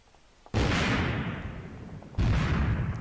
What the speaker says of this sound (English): It sounds like an explosion when it hits the ground there.